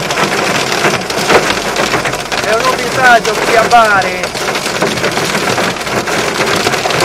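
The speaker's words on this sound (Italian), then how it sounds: "Sentite la grandine, questa è grandine" Hail and heavy rain pound down during a violent cloudburst on the SS100 highway near Bari, a loud, dense, continuous drumming while someone speaks over it.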